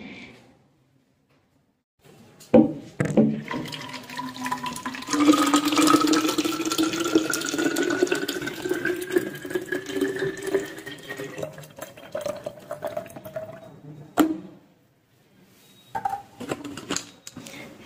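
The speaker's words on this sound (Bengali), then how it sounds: "জলটা একটু ভরে নিয়ে আসি" Water runs from a tap into a container at home, a steady splashing that rises in pitch as the vessel fills, then stops, followed by a few clinks and handling sounds.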